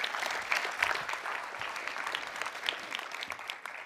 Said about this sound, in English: Give her a nice warm round of applause.